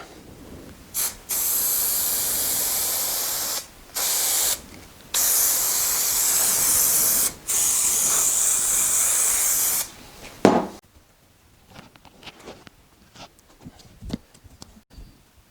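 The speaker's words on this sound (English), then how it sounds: "we are going to glue our foam and our wood" Spray adhesive hisses from a can onto upholstery foam and wood for channel-tufted bench seating, in several steady bursts of a few seconds each separated by short pauses, then fading into quiet handling noises.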